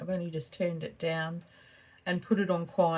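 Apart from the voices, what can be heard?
None of the usual background noises is heard.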